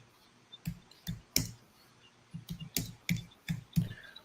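Sparse keystrokes on a computer keyboard, about a dozen separate close clicks in an irregular rhythm with quiet gaps between them and no talking.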